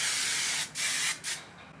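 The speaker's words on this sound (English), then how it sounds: "It's gonna spray a little texture spray." Texture spray hisses from an aerosol can onto clip-in hair extensions styled half up, half down, in three close, steady bursts with brief gaps between them and a short final puff.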